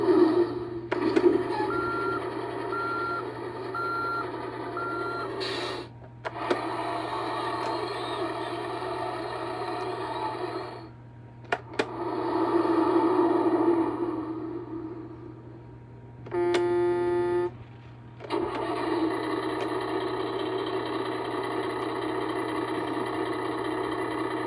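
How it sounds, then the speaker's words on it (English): A toy Mack truck from Cars 3 plays its electronic sound effects: repeated bursts of recorded engine idling and rumble, reversing beeps and a short horn-like tone, separated by brief pauses, close and fairly loud. "So today we have this toy Mack truck from Cars 3. So let's see what sounds it has."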